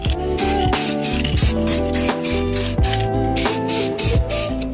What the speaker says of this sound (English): I'm going to go thin layer of black paint up there